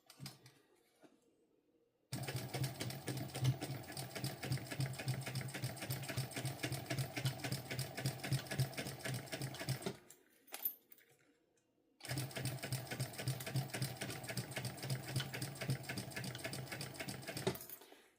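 A sewing machine topstitches with a skinny presser foot in two fast, even bursts of rapid needle clatter, each about eight seconds long, separated by a short pause. The sound is close and steady, with no talk over it.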